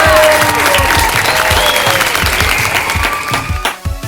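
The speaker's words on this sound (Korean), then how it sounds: "여러분 박수 주세요!" A crowd claps at a children's daycare graduation ceremony as the graduates enter. The applause is loud and close with sharp individual claps, and music or voices sound faintly beneath it before it thins toward the end.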